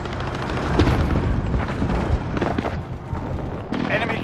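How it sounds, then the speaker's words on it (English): Precision airstrike explosions in Call of Duty: Modern Warfare roll through a dense, continuous barrage of deep booms and rumbling blasts, loud and close, with battlefield chatter mixed in. "Enemy precision airstrike."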